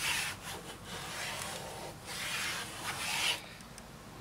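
Damaged chrome trim on a car gets polished by hand, a close, quiet rubbing rasp in uneven back-and-forth strokes that fades near the end.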